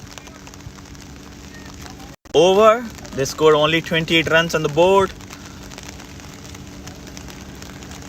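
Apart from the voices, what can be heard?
heavy rain falling on a cricket game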